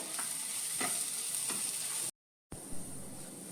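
Chilli powder, hing and garam masala are stirred into a hot pan for a Konkani dry prawn dish. A bright steady sizzle is broken by a few spoon scrapes, then a brief dropout.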